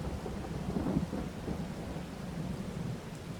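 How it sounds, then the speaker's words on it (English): Thunder rumbles through a Farming Simulator 22 storm, a low continuous roll with rain hiss layered on top, steady and fairly close, swelling slightly near the one-second mark and then holding, with no voices. "Thundering."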